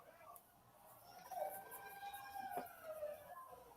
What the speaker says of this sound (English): There's like sirens going off.